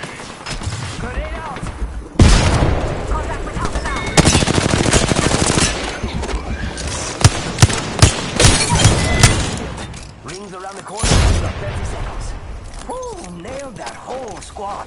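Gunfire in the battle-royale game Apex Legends: bursts of rapid automatic shots and sharp single cracks mixed with mechanical clanks and impacts, loud and up close, with voices talking over the action.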